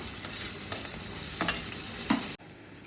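Onions and green chilies fry in coconut oil, crackling steadily while a spoon scrapes and stirs with a few louder knocks, before the sound cuts off abruptly.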